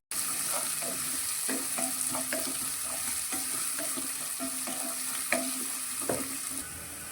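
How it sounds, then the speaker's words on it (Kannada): Onions frying in oil in a pan with chana dal and curry leaves for vegetable upma, a steady close sizzle with light clinks and scraping of a spoon stirring throughout. "ಈರುಳ್ಳಿ ಫ್ರೈ ಆಗಿದೆ"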